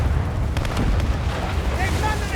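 Ship cannon fire from the video game Assassin's Creed Rogue: a continuous heavy booming and rumbling barrage during a naval battle, loud and sustained, with several sharp cracking reports near the middle.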